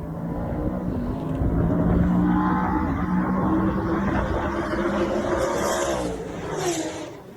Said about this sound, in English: he has the video clip of you racing the Hellcat and Trent's SS